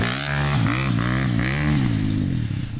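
A motorcycle engine revs sharply up and down several times in quick succession, close and loud, with a throaty rising and falling pitch.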